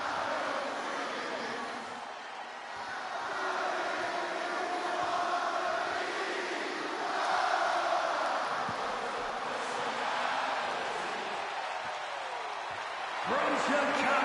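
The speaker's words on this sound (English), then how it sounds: "Just listen to this ovation for the Second City Saint." In the WWE 2K26 wrestling game, a Chicago hometown arena crowd gives CM Punk a sustained ovation, a broad, rolling roar that swells and fades under a commentator's voice.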